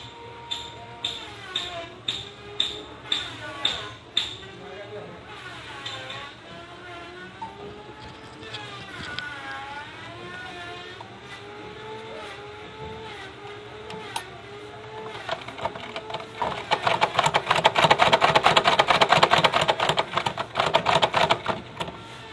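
A sewing machine stitches a fabric half collar in quick rhythmic bursts, close by, with a steadier, louder run of stitching near the end, while someone talks over much of it.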